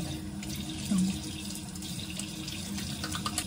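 Cold water runs steadily from a bathroom tap during a face-washing skincare routine, a constant close hiss and splatter into the sink with no speech.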